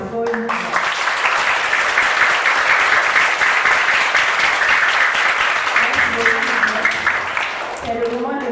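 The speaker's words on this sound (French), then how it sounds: "Je vous demande d'applaudir le Père encore une fois." Audience at a recollection Mass applauding the priest, a dense, sustained round of clapping from a room full of people lasting several seconds, with a voice heard briefly before and after.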